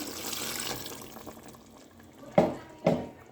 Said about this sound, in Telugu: ఇట్లా వాటర్ పోస్తే బాగా మెత్తగా ముక్క ఉడకడానికి సహాయపడుతుంది